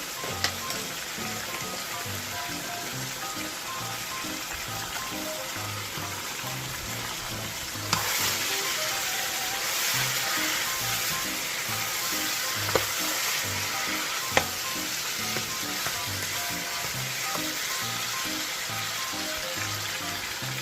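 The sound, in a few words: chicken frying in a pan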